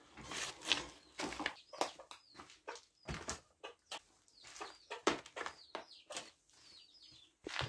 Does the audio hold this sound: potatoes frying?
no